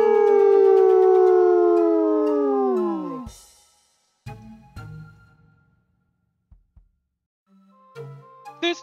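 Drawn-out vocal howl imitating a Grizzimal, a griffin-bear creature, sustained loud for about three seconds with falling pitch, then a few short thumps and clicks and a brief higher vocal squeak near the end.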